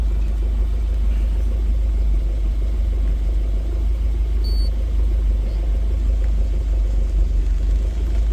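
A Volvo 940 turbo with an automatic gearbox and an AG gas injection kit runs steadily, giving a loud, close, constant low engine rumble with no talking.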